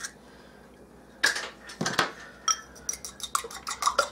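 A slightly beaten egg is mixed in a bowl, sharp utensil clinks and taps against the bowl after a quiet start, irregular and close with no talking.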